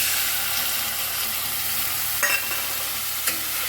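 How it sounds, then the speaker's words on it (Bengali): A chili powder and water paste sizzles in hot oil, a dense, loud, steady hiss with two short sharper spurts of spatter partway through, no voices. "এইবার এই মিশ্রণটা আমি তেলের মধ্যে দিয়ে দেব"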